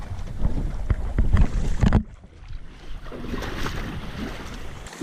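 A small motorboat runs up onto a beach through the surf in Bahia Santa Maria, Mexico, with loud splashing and hull thumps in the first two seconds, followed by quieter washing waves and wind.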